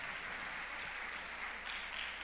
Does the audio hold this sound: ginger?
no